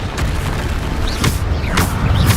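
Descendo spell cast in the video game Hogwarts Legacy, a loud booming magical impact with crackling bursts, heard alone without talk.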